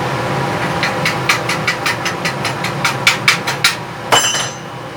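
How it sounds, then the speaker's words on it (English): Chipping hammer knocking slag off a 6011 root pass and 6013 cap stick weld, a quickening run of a dozen or so sharp metallic taps close by, ending in one harder ringing strike. "before I break that slag off"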